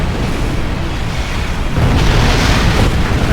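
Weapons fire from the Heralds in Star Trek Online hammers a portal, a dense roar of booming blasts that swells louder about halfway through, with no voices.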